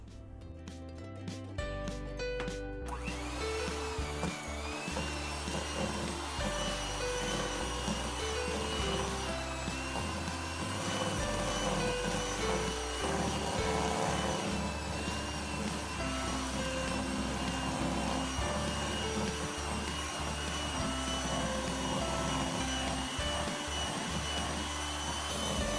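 An electric mixer whirs steadily and loudly through keto pumpkin cheesecake batter, a continuous motor drone with a brief lighter start before settling into even mixing.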